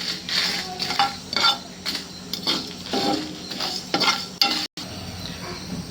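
Ingredients dry-frying in a pan are stirred with a metal utensil, giving repeated close scrapes and clinks over a faint sizzle before a sudden brief cut.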